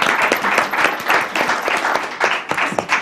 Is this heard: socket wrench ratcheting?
no